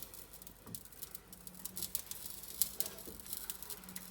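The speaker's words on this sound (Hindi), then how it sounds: "इसको हम लोग गरम करेंगे और कबाबों को फ्राई करने के लिए" Chicken gilafi kebabs frying in a few spoonfuls of hot oil in a pan over medium heat, giving a steady, soft crackling patter with small pops, close by and without talk.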